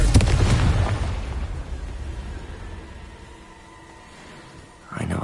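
A Confringo blasting spell explodes in the Hogwarts Legacy video game, one loud burst that fades over several seconds into a quiet lull before a second sharp blast near the end.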